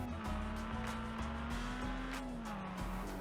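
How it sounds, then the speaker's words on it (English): A Takura Cyclone R starter car, modelled on a seventh-generation Honda Civic, drives in the racing game Overspeed Championship with a steady engine drone and occasional tire squeal throughout. "'47 Takura Cyclone R stock, based on a Honda Civic 7th generation."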